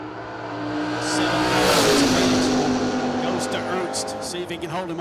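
Drag race cars, including a purple Camaro, launch down the strip at the Mike Smith Memorial Race, their engines roaring loudly and rising in pitch as they accelerate away, with a voice talking over the noise.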